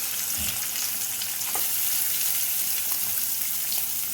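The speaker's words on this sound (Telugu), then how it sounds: "ఈ శనగపప్పు పెద్దగా వేగక్కర్లా, కొంచెం వేగితే చాలు." Chana dal and onions fry in a pan with a steady, loud sizzle throughout, broken by a few faint utensil knocks.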